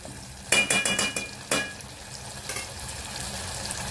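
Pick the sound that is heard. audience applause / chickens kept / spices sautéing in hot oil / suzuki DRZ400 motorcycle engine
spices sautéing in hot oil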